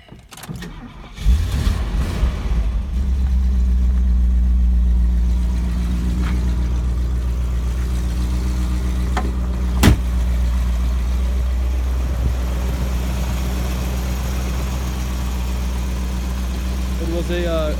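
A 1975 Mercedes-Benz 450SL engine cranks and catches after about a second, then settles into a steady, low, close idle with a faint vibration and a brief click midway, with some talking.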